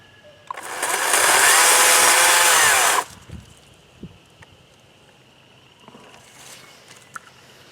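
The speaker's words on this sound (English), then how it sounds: "cutting the fig tree with a chainsaw" A loud chainsaw roars for about two and a half seconds cutting a dead fig tree, then cuts off, leaving quiet rustling and a few faint knocks.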